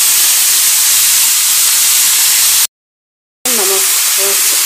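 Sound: leafy greens (saag) added to hot oil in a wok, sizzling

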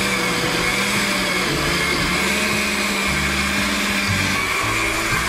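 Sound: blender blending chipotle chiles with beans

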